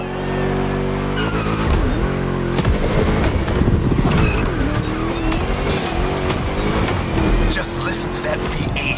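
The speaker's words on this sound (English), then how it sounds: "Just listen to that V8 like a chunky, down-tuned guitar riff." A V8 muscle car roars in The Crew Motorfest racing game, a deep, chunky engine growl rising and falling through gear changes with tire squeal, while a voice talks over it.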